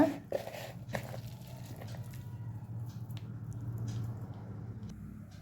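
A hand works sliced onions through a thick batter spiced with cumin and asafoetida for onion pakoda, giving soft wet squishes and squelches in a steady close rhythm over a low background hum, with nobody talking.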